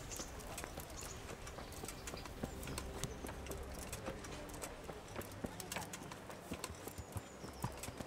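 Horse hooves clip-clop steadily in the medieval video game Kingdom Come Deliverance, a continuous walking rhythm of light knocks over a busy ambient background of game sounds.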